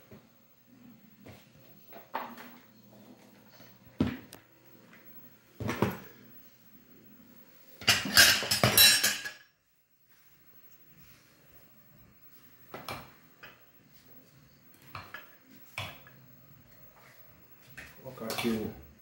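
Spoon scoops rice out of a cooking pot, giving one short, dense scraping clatter of metal on metal between stretches of someone talking at a meal.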